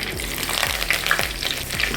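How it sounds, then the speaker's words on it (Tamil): Mustard and fenugreek seeds popping and crackling in hot oil with a continuous sizzle, sharp little pops scattered throughout, close and fairly loud. "இப்போ எண்ணெய் காய்ஞ்சதும் கொஞ்சம் போல் கடுகு, வெந்தயம்"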